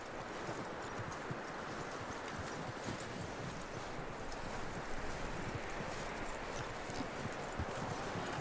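Horse hooves clip-clop steadily on the ground in Red Dead Redemption 2, a continuous walking rhythm heard up close over a dense outdoor ambience.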